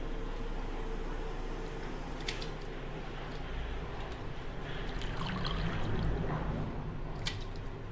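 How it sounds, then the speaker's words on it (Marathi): Grated potatoes being added into a pot of boiling water, a faint continuous watery bubbling with a few soft splashes and drips, no talk. "आता आपण त्यात आहे ना हे किसलेले बटाटे घालून घेऊ"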